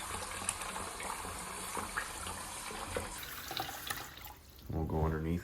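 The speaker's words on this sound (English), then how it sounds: "I installed the faucet yesterday, and so I'm just leak testing it right now" Water runs from a newly installed bathroom faucet on a new marble vanity top during a leak test, a soft steady trickle with splashing that swells louder near the end.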